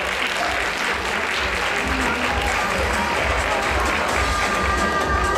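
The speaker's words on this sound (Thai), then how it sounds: "ขอเสียงปรบมือด้วยค่ะ" A crowd claps loudly and continuously at a charity event where a donation and sports equipment are handed over, with cheering and voices blended into the steady applause.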